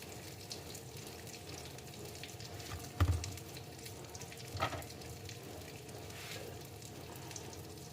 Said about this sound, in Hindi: टिक्कियाँ हमारी फ्राई हो रही हैं